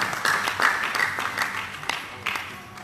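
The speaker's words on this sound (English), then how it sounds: "Another round of applause for him on the well speech." A conference audience at an economic empowerment event at Uniben gives scattered, moderately close applause, with distinct claps standing out before the clapping gradually thins and fades.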